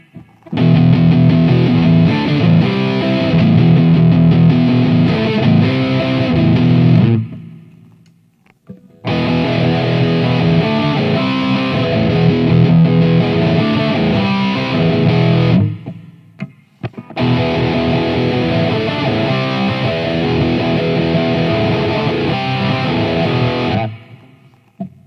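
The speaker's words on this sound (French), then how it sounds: "on va prendre une distorsion maintenant rythmique et on va refaire de nouveau" Electric guitar strumming a rhythm part through a distortion effect, loud and dense in three long passages separated by short pauses, with no talking over it.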